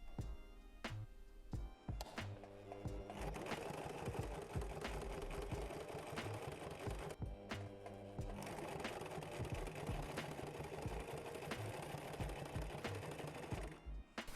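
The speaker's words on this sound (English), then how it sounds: "I just sewed them to the back" A sewing machine stitching straps onto trousers being upcycled into dungarees, close and fairly quiet, running in two long steady bursts of rapid mechanical clatter separated by a short pause.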